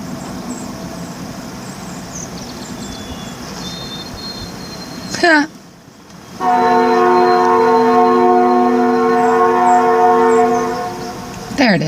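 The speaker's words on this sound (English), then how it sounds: "Yeah, there goes the train." A train rolls past a rural road crossing, its air horn sounding a loud, sustained chord of steady tones after a brief pause, with rumbling wheels and faint birdsong in the open morning air.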